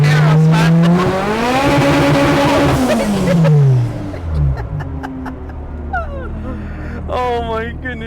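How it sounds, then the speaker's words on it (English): A supercharged Honda Civic EK street car with a 500 bhp K24 engine revs hard and pulls away loudly, the pitch climbing and then dropping off as it passes, followed by people talking and laughing. "This car is loud."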